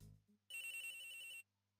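A phone ringtone in the Ace Attorney Investigations video game: a bright electronic trill lasting about a second after a short low tone, fairly quiet, followed by silence.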